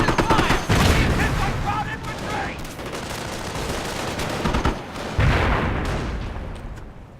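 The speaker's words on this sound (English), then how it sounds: "Hear that beautiful sound of the mortar." Mortar and gunfire in a video game's 1 vs 1 Valor tournament match: repeated loud booms and bursts of shots, with two heavy impacts standing out against a dense, continuous battle din.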